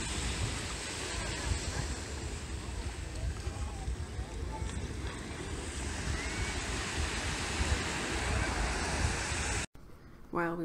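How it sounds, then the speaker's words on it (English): Waves roll onto a beach in a steady, close wash of surf, with wind buffeting the microphone for about ten seconds before a brief cut and a short voice at the end. "While we were at the beach"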